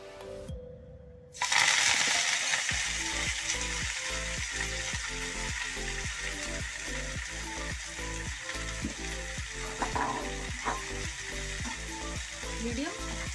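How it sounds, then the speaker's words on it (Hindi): Fresh fenugreek leaves hit hot oil in a pan and sizzle loudly and steadily, with a regular rhythm of stirring strokes and scraping throughout, close up and without talking. "अब हम इसमें अपने मेथी के पत्ते, सबसे पहले मेथी के पत्ते फ्राई कर लेते हैं।"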